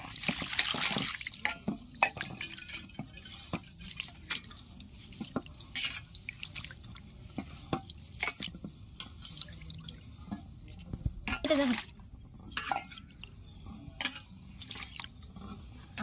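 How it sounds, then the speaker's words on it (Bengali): Gobindobhog rice being washed by hand in a bowl of water, with scattered drips, splashes and soft squishing sloshes coming in irregular bursts, close and fairly quiet with no talking. "চালগুলোকে আমি ভালো করে ধুয়ে নিচ্ছি।"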